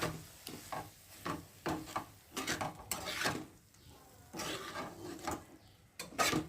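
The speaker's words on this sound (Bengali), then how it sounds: "আর ডিমটা দেওয়ার সঙ্গে সঙ্গেই নাড়তে হবে" Egg being stirred into a mash of eggplant in a cooking pan gives repeated scraping and rubbing strokes in an uneven rhythm, close and fairly quiet, with no voices.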